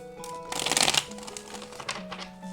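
A tarot deck riffled and shuffled by hand, a dense burst of rapid card flutter followed by softer, scattered card slides and taps, close and clear.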